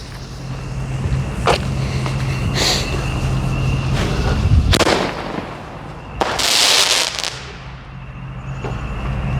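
Alien-themed parachute firework shells launched outdoors, several sharp thumps and whooshing bursts at intervals, with a longer loud hissing rush near the end, heard close.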